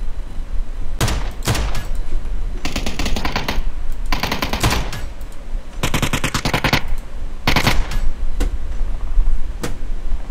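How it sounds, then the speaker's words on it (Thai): Several bursts of rapid automatic machine gun fire in the game PUBG, some short and some sustained, separated by brief pauses, loud and close with a constant background hum. "ฟังเสียงปืนนะครับ"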